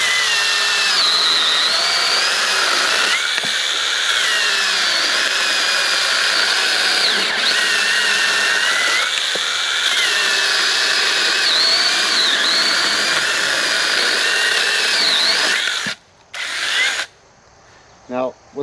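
A Sainlogic mini chainsaw cutting through a log, its motor a steady high-pitched whine with a grinding cutting texture that runs loud and close for about fifteen seconds before stopping, followed by brief short bursts.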